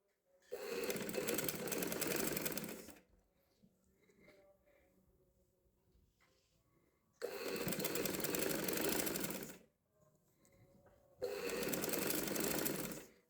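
An electric sewing machine stitches a sleeve seam onto a garment's armhole in three steady, loud, continuous whirring runs, each lasting a few seconds, with quiet pauses between them.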